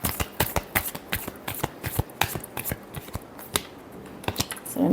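Tarot cards being shuffled up close in a quick run of crisp, irregular riffling snaps and flutters, the cards loud against a quiet room with no talking.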